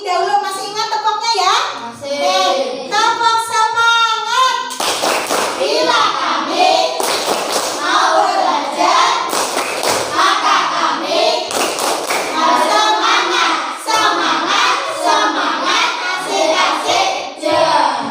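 Schoolchildren in a classroom lesson perform the 'tepuk semangat' rhythmic clapping chant, patterned claps interleaved with children's chanting voices, loud and close throughout.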